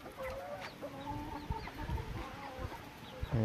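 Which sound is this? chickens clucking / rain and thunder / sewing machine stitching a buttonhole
chickens clucking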